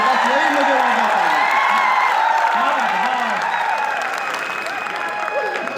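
A large crowd claps and cheers loudly and steadily, with whistles and shouts rising over the sustained applause.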